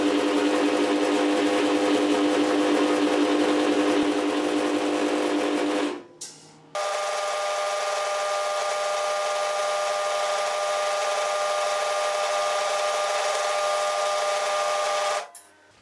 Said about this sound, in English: I'm now going to drill a 12mm hole through both of the marks